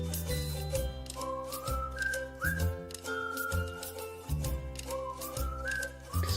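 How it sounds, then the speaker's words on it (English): A cheerful melodic whistled tune with rising and falling phrases carries over a steady musical backing, playing continuously at a moderate, even level. "Just a happy whistling song, isn't it?"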